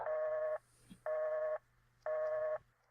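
A telephone being dialed as a radio drama sound effect, with three evenly spaced tonal beeps each lasting about half a second, clear and close with no talk.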